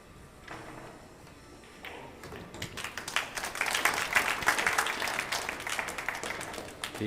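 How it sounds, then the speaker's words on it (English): Scattered hand clapping from a crowd at the 2023 Apex Wisconsin Open pool match, picking up after a couple of quiet seconds into a steady patter of claps that continues to the end. "Thea clapping for her husband."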